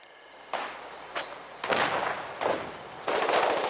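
Flares pop and burst in a war video game, four or five sharp cracks spaced about a second apart, each trailing off into a hissing burn over a low background rumble.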